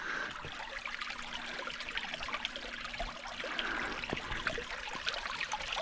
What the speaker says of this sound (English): Little lantern, little creek right behind me. Babbling brook right at my back.